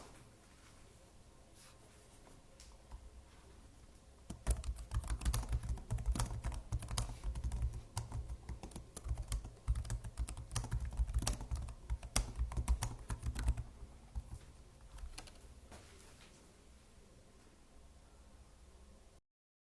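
Rapid typing on a Lenovo Legion 5 laptop keyboard, soft and dense clicking that starts light, grows louder and busier in the middle, then eases off again, with a low background hum throughout.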